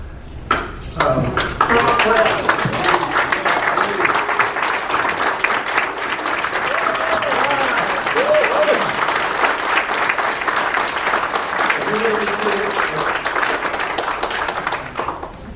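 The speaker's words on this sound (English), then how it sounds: "we're going to do some claps" Sustained applause from an audience at a Korean community crime prevention committee lecture and awards ceremony, steady and dense for about fifteen seconds, with some voices mixed in.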